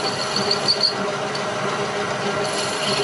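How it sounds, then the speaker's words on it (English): A milling cutter deburrs the edge of a machined router plate, giving a steady, close, high-pitched whirring grind with faint squeals that runs unbroken for the whole stretch. "I'm going to go ahead and deburr this edge"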